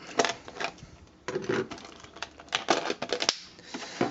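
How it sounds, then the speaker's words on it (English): A sticky film layer is peeled back off a small plastic tray holding Zoids Blade Liger parts, giving close crackly tearing bursts with short pauses between pulls. "Just got to peel back to get these guys out"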